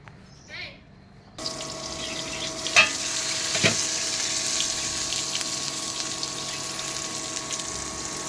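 Eggplant slices frying in a pan, a steady close sizzle that starts abruptly after a quiet moment and holds on, with a couple of brief clinks from a utensil.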